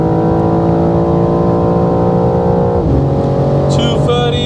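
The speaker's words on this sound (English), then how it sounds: "And let's give full throttle here again." A 2025 BMW M4 Competition LCI accelerating at full throttle on the Autobahn, a loud sustained engine drone rising steadily with a brief dip at a gear change, heard from inside the cabin.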